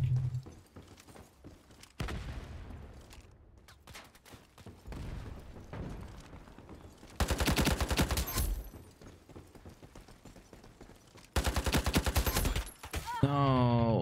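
AK rifle fired in the video game Ironsight, with two loud sustained bursts of automatic gunfire separated by quieter in-game ambience and scattered shots.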